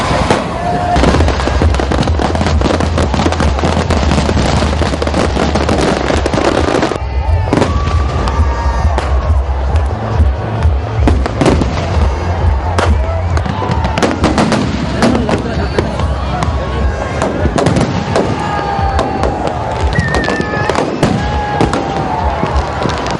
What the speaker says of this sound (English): While some celebrated the new year with fireworks